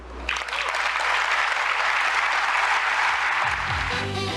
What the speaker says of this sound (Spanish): ¿Por qué le aplauden por eso?